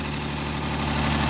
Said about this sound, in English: It's a loud engine.